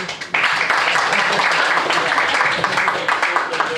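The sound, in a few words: audience applause for stage volunteers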